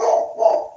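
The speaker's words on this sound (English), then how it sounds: "I don't know why she's barking." A dog barks twice in quick succession, close and fairly loud, with short sharp barks and a brief pause between them, then quiet.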